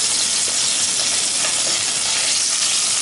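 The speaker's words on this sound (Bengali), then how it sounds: "তেলটা ভালো মতো গরম করে নিয়ে আমি একে একে মাছের পিসগুলো দিয়ে দিচ্ছি" Hilsa fish pieces dropped into very hot oil in a pan, a loud, dense, continuous sizzle and hiss close up, with no voices.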